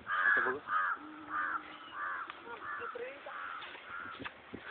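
Crows squabbling with a dog, a series of loud, harsh caws in a steady rhythm about every half second, close by, no voices.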